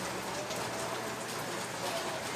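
Steady morning rain falls on a farm during a typhoon, a dense, even hiss of drops on surfaces that holds constant and fairly loud throughout with no voices.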